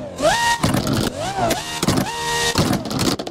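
A high-pitched supercar engine revs hard at Goodwood Hillclimb in several rising, screaming bursts with sharp gear-like drops between them, loud and close.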